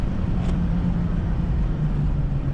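Steady, droning engine noise from inside a Mazda RX-8 Spirit R with a stock exhaust, its rotary engine humming evenly while driving in Japan, with road rumble constant and no speech.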